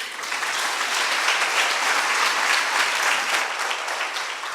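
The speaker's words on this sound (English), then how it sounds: "Please give them a round of applause." A school audience gives a loud, sustained round of applause for the teams after a high school debate, a dense, even wash of clapping with no speech over it.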